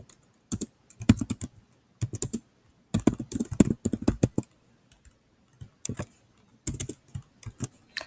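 Clicky keystrokes on a computer keyboard come in short bursts with brief pauses, close and clear with no talking.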